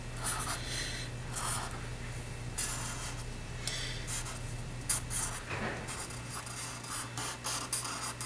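A pencil sketches Spider-Man Miles Morales on paper. Close, faint scratchy strokes come in quick repeated bursts against a quiet steady hum.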